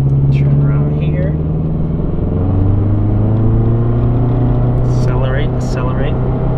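A 2017 Subaru WRX STI with a big rear wing accelerating, its engine note droning loud and steady with the pitch slowly rising and falling, close inside the cabin, with voices heard briefly over it.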